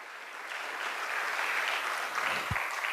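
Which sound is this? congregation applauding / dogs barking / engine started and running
congregation applauding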